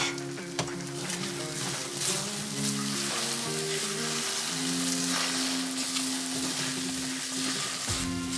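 Sausage sizzles loudly in a hot pan, a continuous crackling fry with occasional stirring scrapes, close and steady throughout with no talking.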